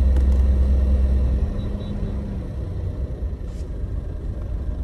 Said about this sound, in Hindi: ये बढ़ गई गाड़ी।